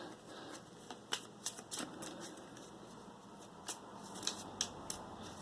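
Decks of item and action cards from the board game Houses of Knowledge are shuffled on a table, giving faint, quiet papery riffles and scattered clicks with no talk.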